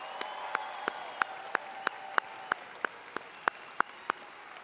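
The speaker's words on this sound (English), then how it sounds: "a round of applause for our newest alumni." At a Southeast Missouri State University commencement, a crowd applauds the new graduates, though the sound comes through as faint, evenly spaced rhythmic claps over a low hall murmur, each clap about a third of a second apart.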